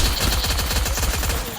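Rapid automatic gunfire in the Free Fire battle royale game, a dense, loud burst of shots rattling continuously for over a second with no talk over it.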